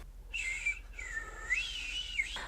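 A person whistles a few clear, high sliding notes close by, rising and falling with short breaks between phrases.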